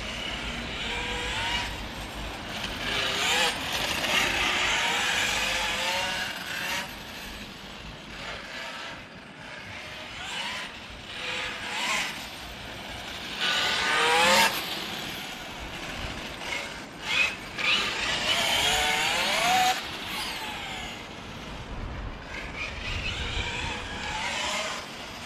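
MCD XR5 RC car with a 20S brushless SSS 230KV motor running on a track, with rising and falling electric whine, mechanical gear rattle and tire scrabble in repeated passes, loud and steady throughout.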